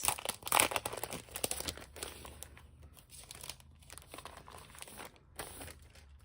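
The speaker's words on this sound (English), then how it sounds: "I'm going to grab one of these Foil Fusion" Foil Fusion foil sheets grabbed and handled, sharp crinkling bursts, loud at first then softer and more scattered, close up with no talking.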